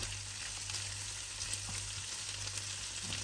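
Vegetables for a salmon and potato dish frying in a pan give a continuous even sizzle, a dense hiss with faint crackles and occasional light stirring, steady throughout and without talk.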